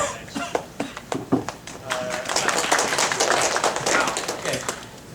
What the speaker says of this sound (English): it's good you applaud before